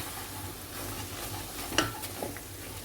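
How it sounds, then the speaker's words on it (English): A spoon stirs two tablespoons of flour into a shredded chicken and macaroni mixture in a hot pan. A soft steady sizzle runs under it, with a few faint scraping clicks. "I'm going to mix it very well"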